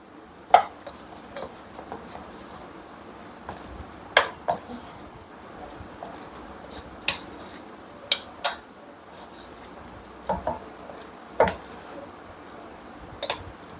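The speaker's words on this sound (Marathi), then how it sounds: "आता याला आपण एकजीव करून घेऊया." Ajwain, coriander and turmeric mixed together in a bowl, repeated irregular clinks and taps of a spoon against the bowl, close and fairly sharp.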